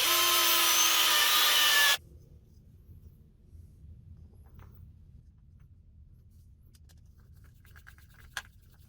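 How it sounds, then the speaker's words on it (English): A loud, steady power drill whines for about two seconds near the mic, enlarging a hole so a screw fits, then cuts off, leaving quiet room noise with a few faint clicks. "So I'm just going to drill out that hole a little bit more so that the screw I have will fit through"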